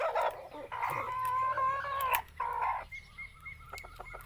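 A Thai fighting rooster of the Surin line crows loudly and close by, with a long strained call followed by shorter clucks and a distant answering crow.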